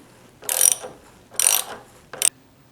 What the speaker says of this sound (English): And I am using a swivel extension. So loosen the cap bolt.